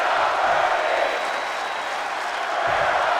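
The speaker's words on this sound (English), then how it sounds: "Listen to the crowd here." A roaring arena crowd in the WWE 2K24 wrestling game fills the scene with a dense, sustained wall of cheering and clapping, loud and continuous, swelling slightly toward the end.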